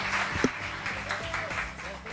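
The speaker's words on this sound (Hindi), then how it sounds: "तालियां," Studio audience applause on a Pakistani morning television show, steady and moderately loud for about two seconds with a bit of speech mixed in.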